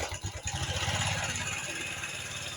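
A Honda Revo Fit FI fuel-injected motorcycle, faulty so that it stalls when throttled, idles with a low, close, rough putter that catches unevenly before settling, alongside some talking.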